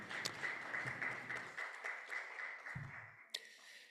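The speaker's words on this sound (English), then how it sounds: "let's give a round of applause for now." Audience at a national budget conference clapping, a short burst of moderate applause that fades within a few seconds.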